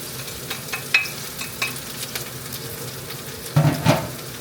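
Garlic and onion sauté in hot oil, making a light sizzle broken by small scrapes and taps of stirring, with a louder burst of clatter near the end, and no voices.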